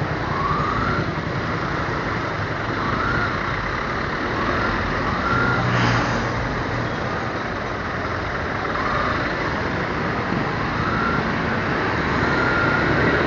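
Dense road traffic heard from a motorcycle taxi in evening congestion: a steady roar of engines and wind with occasional distant horn or siren tones, continuous and fairly loud throughout.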